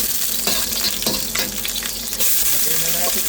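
Ginger sizzling in hot avocado oil in a pan, a loud, steady frying hiss with occasional stirring scrapes and clinks.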